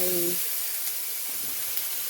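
Steady hissing sizzle of Chinese sausages frying in a hot iron pan, continuous and close, with a faint voice at the very start.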